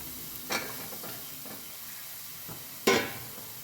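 A spoon stirs mango pieces into a bitter gourd curry, giving two brief scraping stirs over a faint simmering hiss, with no talk.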